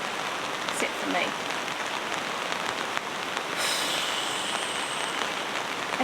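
Heavy rain pours steadily at a free campground with no facilities, a dense, even hiss of drops hitting surfaces that continues throughout, with a brief brighter patter partway through.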